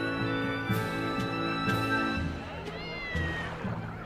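Several short meows from a house cat come one after another at close range over a constant low hum, with the later calls a little softer.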